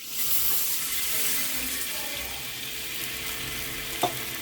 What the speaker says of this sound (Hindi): इसमें हम 1 कप पानी,